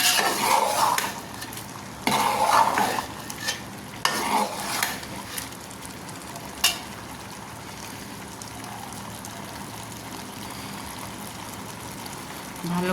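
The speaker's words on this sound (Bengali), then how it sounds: "ঢাকনাটা তুলে একটু ভালো করে নেড়ে দেব, যাতে ডালগুলো নিচে লেগে না যায়।" Lentils and bottle gourd being stirred in a pot for lau dal, with several scraping, clattering stirring bursts early on, then a softer steady simmering bubble.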